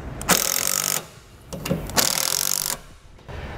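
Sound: tightening self-tapping screws onto tow vehicle base plate

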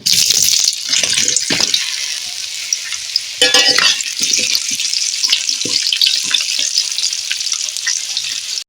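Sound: potatoes frying in oil with cinnamon and bay leaf

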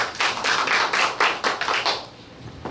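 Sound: audience applause at a press conference

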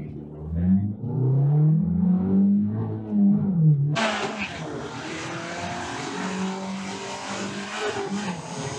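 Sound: smart car drag racing

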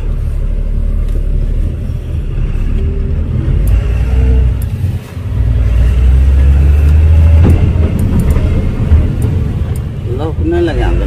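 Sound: Tata Signa BS6 16-wheel truck being turned around

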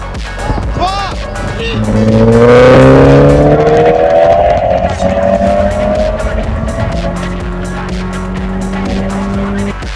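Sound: BMW 335 car accelerating hard from a rolling start

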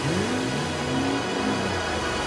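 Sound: race car engines starting and revving

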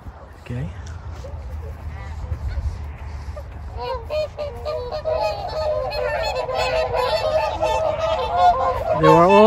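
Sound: wild geese honking while being fed

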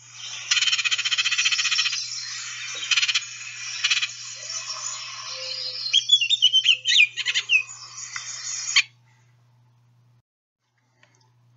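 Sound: two Baltimore Orioles calling in aggressive interaction

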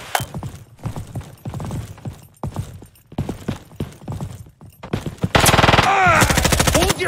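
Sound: gunfire in the video game Frontlines

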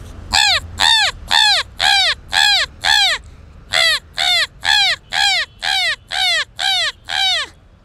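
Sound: person imitating a crow's caw from Dakshinkali area

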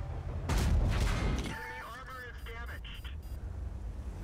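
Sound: tank cannon fire in World of Tanks video game

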